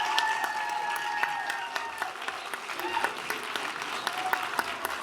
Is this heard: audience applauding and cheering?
yes